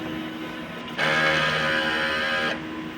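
A sublimation printer hums steadily, then a louder mechanical whir of its head cleaning cycle kicks in for about a second and a half before dropping back to the quieter drone.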